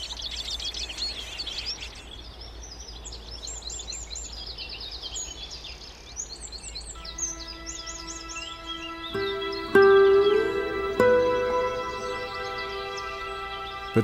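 A goldfinch sings outdoors in open country, a bright run of rapid twittering chirps and trills, fairly near, over a soft background hiss with other birds and a few tonal calls joining later.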